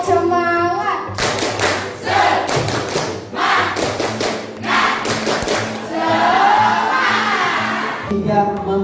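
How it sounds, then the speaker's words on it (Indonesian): A group in a university teacher-training classroom performs a rhythmic spirit clap: loud, close bursts of patterned claps and thumps in quick sequences, separated by brief pauses. "Tepuk semangat."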